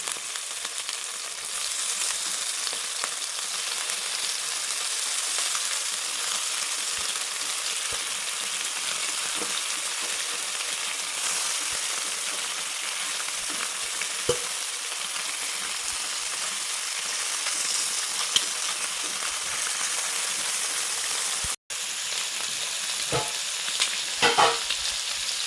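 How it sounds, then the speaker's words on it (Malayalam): Vegetables coated in spice paste fry in a covered pan, a steady, bright sizzle holding for the whole stretch, with a few soft clinks and stirring knocks near the end. "പെട്ടെന്ന് തന്നെ വറക്കാൻ വേണ്ടിയിട്ട് അടപ്പത്തോട്ടാക്കിയിട്ടുണ്ട്."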